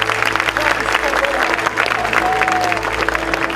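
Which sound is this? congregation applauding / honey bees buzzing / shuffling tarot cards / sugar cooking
congregation applauding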